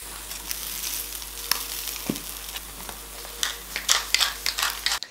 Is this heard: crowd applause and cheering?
no